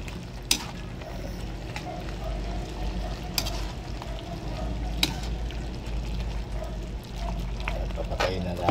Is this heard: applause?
no